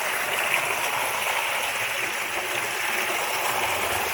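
A river flows steadily through a Kenyan village, a constant broadband rushing and hiss of moving water that holds even and unbroken throughout, with no voices over it.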